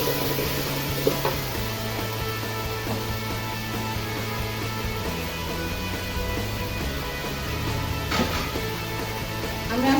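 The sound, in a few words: beef tehari being sautéed with packet spice mix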